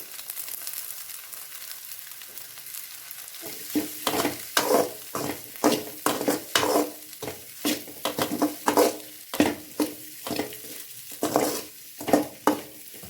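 Mutton masala fries in hot oil, a steady sizzle under repeated scraping stirs of a spatula in the pan, rhythmic and close, with no talk.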